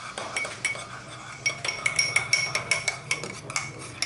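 A spoon stirs cheese dip mixed with water in a bowl, giving rapid, rhythmic metallic clinks and taps against the container, close up and growing steadier after a brief pause.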